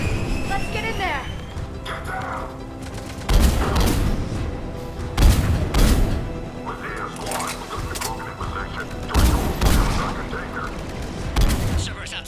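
A video game checkpoint firefight fills the scene with repeated bursts of gunfire and heavy impacts at irregular intervals, while voices shout over the steady combat noise.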